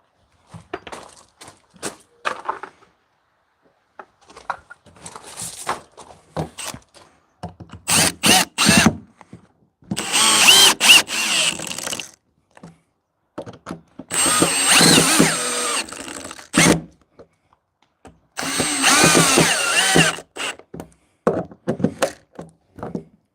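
A power drill drives the last three screws into a folding bench, several short whirring bursts separated by pauses, with longer loud runs as each screw seats, close and alone without talk.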